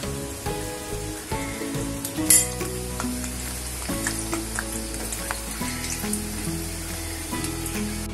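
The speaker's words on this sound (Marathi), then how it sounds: "आपण असे सगळे तळून घेऊया." Medu vadas fry in hot oil with a dense, steady crackling sizzle, close and fairly loud, broken by occasional sharper pops and a brief splash partway through, with no voices.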